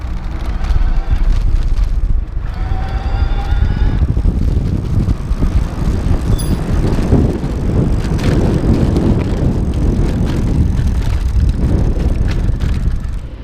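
A Riese & Müller Nevo NuVinci e-bike with a belt drive being ridden: a steady, loud rushing and whirring of riding noise, with some brief high tones near the start, and no talking.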